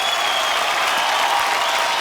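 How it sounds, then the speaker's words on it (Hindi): Studio audience on a television comedy show bursts into brisk, loud applause, a dense wash of clapping that stays even for a short burst. "एक बार जोरदार तालियां हो जाए आप सबके लिए"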